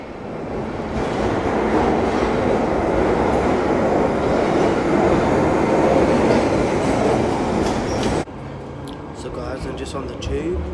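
A London Underground tube train riding toward Piccadilly Circus, with a loud continuous rumble and rattling roar of wheels on track that drops abruptly near the end to a quieter hum with scattered clicks.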